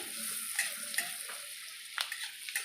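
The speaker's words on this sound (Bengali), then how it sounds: "এই যে রসুনটা একটু নেড়ে নিচ্ছি।" Crushed garlic fries in a pan for chicken soup with a soft steady sizzle while it is stirred. Light spatula taps sound close by at irregular moments, with no speech.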